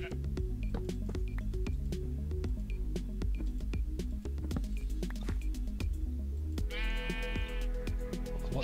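Sheep bleating in Minecraft, several short game bleats rising over a busy musical background with clicks and plucked tones, plus a brighter warbling effect near the end.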